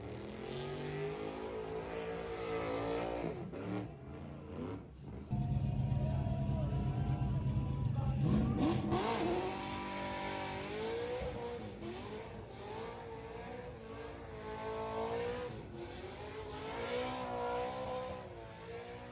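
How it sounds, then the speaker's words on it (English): A classic car doing burnouts and drifting at SEMA, its engine loud and close, revving in repeated rising and falling surges with a brief steadier roar in the middle. "I do love seeing classic vehicles out there swinging around"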